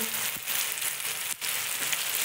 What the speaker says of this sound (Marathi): मस्त परतून घ्यायचं टोमॅटोला तेलामध्ये।